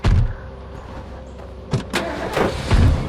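An old truck's engine turns over and catches in the zombie survival game State of Decay, a close mechanical start with a door-like thunk and a few clunks following.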